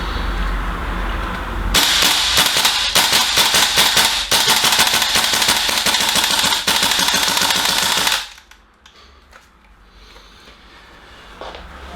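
A Tokyo Marui AKM gas blowback airsoft rifle fires a rapid string of sharp, snappy reports with a clacking bolt, loud and close in an even rhythm for about six seconds, then stops abruptly, leaving a quiet room.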